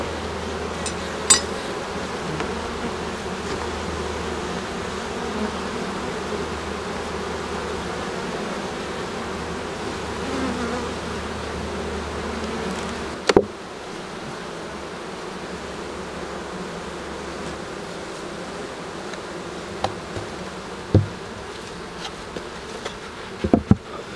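An open honeybee colony in an apiary in Quebec hums with a dense, steady buzz of many bees close by, broken by a few wooden knocks as the hive is handled and closed with a honey super and queen excluder.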